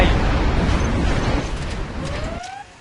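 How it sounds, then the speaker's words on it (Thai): A Scud Storm missile launch and its explosions in C&C Generals: a loud, rumbling blast that fades over about two seconds, then rising whistles of missiles at the end. "General a scud storm has been launched"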